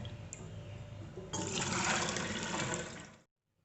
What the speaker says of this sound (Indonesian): Kemudian akan saya bilas satu kali ya dengan air putih biasa lagi